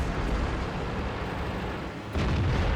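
A tank cannon fires in a tank video game, a deep booming blast over a constant heavy rumble, followed near the end by a second sharp report.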